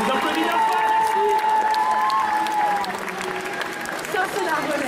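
Loud, continuous clapping from an indoor festival audience at a cosplay contest, with scattered cheers and voices talking over the applause.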